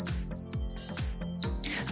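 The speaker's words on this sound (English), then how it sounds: "when I touch the base lead of the transistor Q2, it activates the buzzer" A homemade transistor-driven security alarm buzzer sounds a steady, piercing electronic tone near the microphone, holding for about a second and a half before cutting off, with faint clicks of circuit contact underneath.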